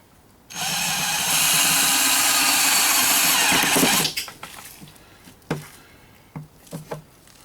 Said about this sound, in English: Guess we'll have to drill it.